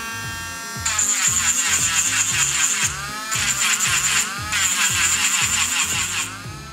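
A power tool grinds through a natural piece of Baltic amber holding a spider, removing the bottom slowly and carefully; a steady high whine runs in several long bursts with brief pauses between, close and fairly loud.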